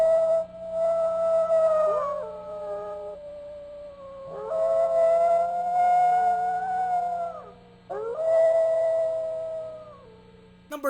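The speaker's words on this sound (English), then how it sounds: "This logo has howling" Three long, wavering howls fill a Nickelodeon bumper logo, each rising and bending in pitch over a low steady hum, separated by short pauses, with a brief sharp sound at the very end.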